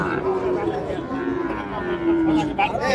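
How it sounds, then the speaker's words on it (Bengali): Calves low with drawn-out moos, one after another, at the Panchbibi cattle market in Joypurhat, amid crowd chatter and nearby talking. "প্রচুর পরিমাণে বাছুর আজকে দেখছি"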